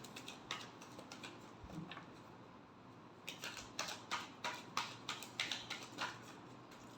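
Tarot cards are shuffled in a quick run of crisp, close clicks and soft slaps after a quieter start, no talking.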